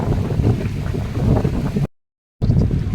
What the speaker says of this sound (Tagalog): sobrang malaki yung alon